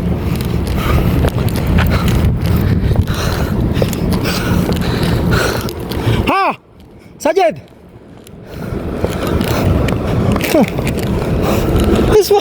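An air conditioner's DC compressor motor runs with a rough, steady mechanical drone that briefly cuts out and then resumes, while voices talk and a few short clanks sound in the middle.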